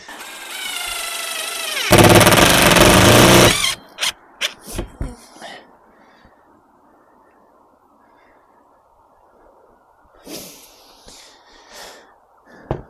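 Screws driven in one after another with a power drill while fitting a Maxxair roof fan on a VW Crafter campervan: a rising motor whine, then a loud grinding burst and several short sharp driver bursts, followed by quieter handling.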